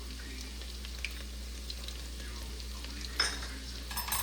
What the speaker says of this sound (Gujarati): હવે એમાં સૌથી પહેલાં તો હું લસણ નાખીશ